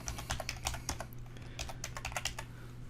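Computer keyboard keys clatter in quick irregular bursts of typing, close and crisp, with short pauses between runs of keystrokes.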